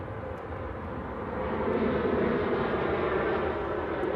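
Ryanair Boeing 737-800 taking off from Manchester Airport for Lanzarote, a distant broad jet roar that swells gradually and holds steady, heard alone.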